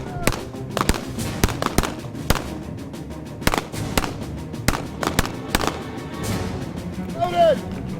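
Gunfire in a staged handgun shootout scene, a close, loud series of sharp irregular shots and bursts spread across several seconds, with a shouting voice breaking in near the end.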